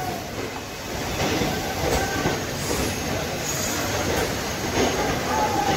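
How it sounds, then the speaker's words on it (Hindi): The Black Diamond Express rolls into a railway station with a loud, continuous rumble of wheels on track and thin metallic squeals, close by and dominating throughout. "तो ब्लैक डायमंड ट्रेन है दोस्तों"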